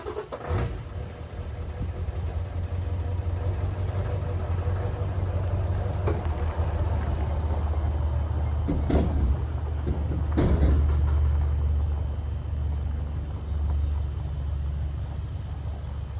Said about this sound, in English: You can at least see me pulling my truck out.